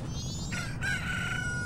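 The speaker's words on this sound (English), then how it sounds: "Look at your little chickens!" Chickens in The Legend of Zelda: Majora's Mask give a rooster-like crow with rising and held tones, heard clearly over a steady low game backdrop, without talk.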